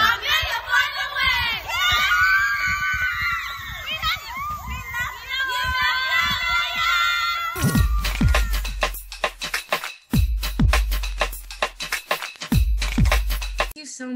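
Blue Star cheerleaders chant and shout a short cheer at an awards ceremony, a group of young voices, followed by a run of sharp rhythmic claps or stomps.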